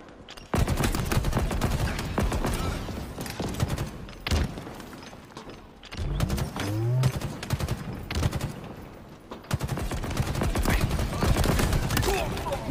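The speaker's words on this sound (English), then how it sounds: "Taking fire" Rapid automatic gunfire in the video game Halo fills nearly the whole stretch with loud, dense bursts and thuds, pausing briefly around the middle before resuming heavily, with a voice speaking over it.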